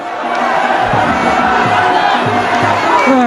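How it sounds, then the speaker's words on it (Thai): A large crowd of fans cheers and shouts at a Muay Thai championship fight, a dense, loud roar of voices with rising whoops and yells that carries on throughout. "วันนี้กองเชียร์ตนเป๋มาจากอุบลมากันเยอะครับ"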